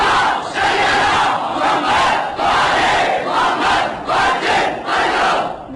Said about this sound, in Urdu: بسیجی صلوات.